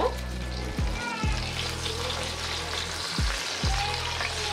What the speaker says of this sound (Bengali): এখন এটা প্রায় 20 মিনিটের মতো লো হিটে আমি ভেজে নেব